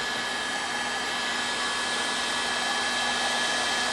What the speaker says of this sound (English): we're just going to blow down inside the cavities and just try to get it warmed back up a little bit